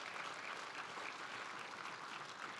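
Luncheon guests give a steady round of applause, dense, even clapping that fills the room from start to finish.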